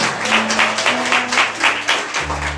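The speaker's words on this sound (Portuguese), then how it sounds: "Uma salva de palmas ao Senhor." A church congregation applauds together, a dense sustained clapping that fills the room, with a held organ or keyboard tone sounding beneath it.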